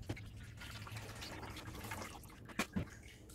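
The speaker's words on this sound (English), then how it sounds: "wash a little bit more water through this ginger just to get a little bit more taste out of it" Water is poured through grated ginger while brewing homemade ginger beer, a soft close trickle and splash with a couple of brief louder drips near the end.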